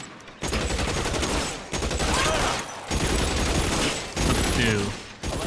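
Gunfire in LA Noire, dense and loud, in several sustained volleys separated by short breaks over a few seconds, with a busy game soundscape behind it.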